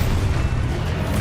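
Expulso, an explosive spell in Hogwarts Legacy, detonates as a steady, heavy low-end boom that rolls on without a clear break, loud and close with no voices over it.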